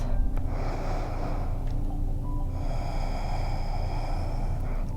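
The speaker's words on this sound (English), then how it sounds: "One more big breath." Slow, deep breaths drawn in and let out during a prenatal yoga session, a long audible inhale and exhale heard close up in a quiet room.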